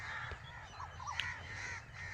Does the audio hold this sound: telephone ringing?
no